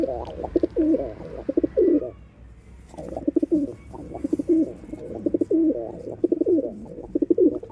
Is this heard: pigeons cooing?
yes